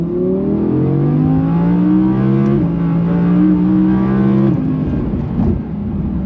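A sports car engine, an Audi R8, revs steadily with rising and falling pitch, dropping sharply twice as gears shift, loud and close throughout.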